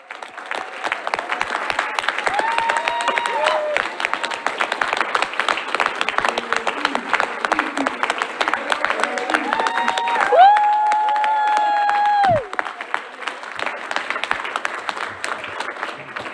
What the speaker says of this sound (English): So give them another round of applause for succeeding.